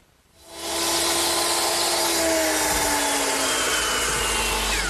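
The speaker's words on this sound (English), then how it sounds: "now that completes the cut at the top of the 2x4 standards" A power saw cutting through a 2x4 wall stud, the motor spinning up after a quiet moment into a loud, steady whine and grind that holds to the end, close and alone.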